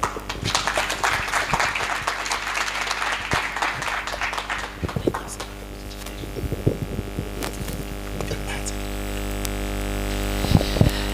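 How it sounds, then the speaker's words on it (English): Audience clapping at a youth empowerment event in Palapye after a presentation, a loose patter of hands at first that thins into a few scattered claps over a persistent electrical mains hum. "Clap hands for him once more."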